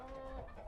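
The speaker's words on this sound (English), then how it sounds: "So in here we have our chickens" Chickens cluck softly in a brief, faint burst at an animal welfare shelter, their low calls running together with no other sounds.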